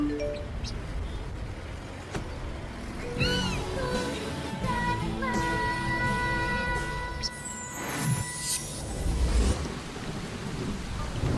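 Steady rain hisses throughout while thunder rumbles low, with scattered tones and faint voices sounding over the downpour.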